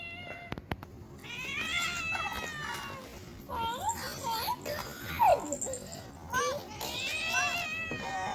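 A toy kitty gives repeated electronic meows in short rising and falling bursts, close and clear, while a child and an adult talk and giggle around it.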